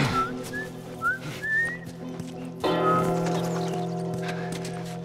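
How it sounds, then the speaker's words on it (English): A character whistles a bright melodic tune in The Last of Us Remastered on PS4 Pro, a few rising phrases near the start over a steady game soundscape with low hum, then the ambience swells louder while faint whistling returns. "That's awesome that you can whistle."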